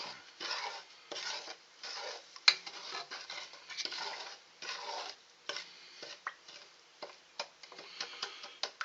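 Homemade bird suet mixture with cornmeal is stirred in a pan over low heat, producing quiet, steady scraping and ticking strokes of the utensil that repeat with no talking.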